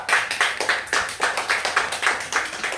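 A class of students claps hands together in a quick, even rhythm, about nine crisp bursts in a row, close by and with no talking.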